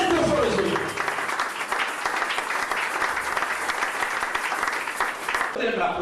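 A church congregation breaks into sustained applause, a thick wash of many clapping hands that holds steady throughout, with voices mixed in at the start and end.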